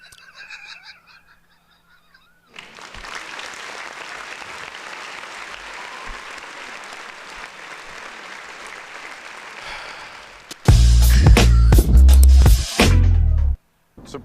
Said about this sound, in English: Round of applause to that person.